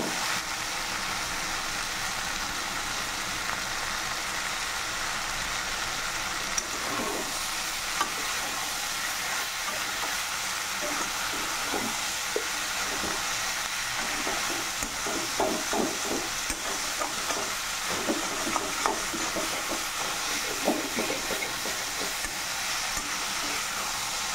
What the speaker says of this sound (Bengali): ঠিক এইভাবে কিছুক্ষণ আমরা ফ্রাই করে নেব।